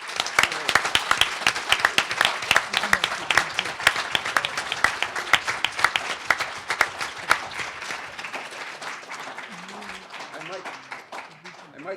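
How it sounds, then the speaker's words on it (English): Audience applause at an evening symposium, a vigorous round of close, crisp clapping that holds steady and then gradually tapers, with a voice starting to speak as it dies down. "Please join me in giving Mr."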